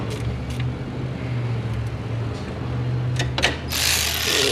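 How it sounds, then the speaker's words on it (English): A gear wrench clicks in short ratcheting bursts while tightening two 10mm bolts on a Ford 6.0 Powerstroke engine, close by over a low steady hum, ending in a louder broadband rush. "I'll just use a gear wrench, not a big deal. These are only 2 10s I have to tighten."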